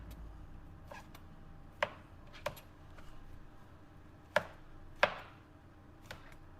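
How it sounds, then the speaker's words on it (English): Mushrooms roughly chopped with a knife on a cutting board: several sharp, irregular chops, close and clear, with quiet gaps between them and no talking. "Nothing too fancy with the mushrooms. Just a rough chop."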